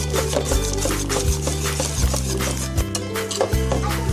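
A utensil stirs béchamel for a potato gratin in a metal pan, close scraping and swishing in uneven strokes with occasional clinks against the pan, no talking.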